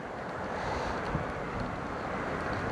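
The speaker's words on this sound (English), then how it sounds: "the winds have been awful" Strong wind buffets the microphone outdoors while bass fishing, a steady loud roar of rushing air and rumble with no pauses throughout.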